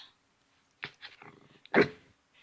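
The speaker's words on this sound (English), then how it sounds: "when she's trying to howl, she barks instead" A dog trying to howl lets out a few short, close, soft barks and yips instead, the last one louder, with quiet gaps between.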